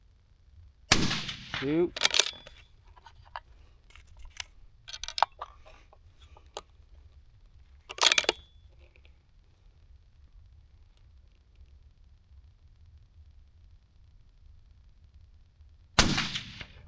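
Rifle shots ring out at a shooting range: several sharp, loud cracks spaced seconds apart, with a final shot near the end, separated by quiet stretches and a brief spoken count.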